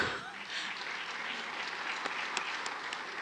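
Audience applause at a panel discussion event, with faint, scattered clapping running steadily throughout at a low level in a room.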